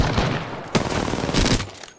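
Bursts of rapid gunfire from the Apex Legends video game, two dense volleys with a shorter shot between, loud and close.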